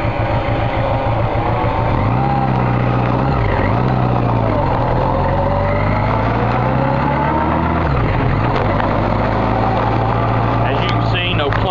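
A 1983 Honda Goldwing motorcycle engine runs steadily and loudly throughout, with pitch dipping and rising as it shifts gears while riding down the road.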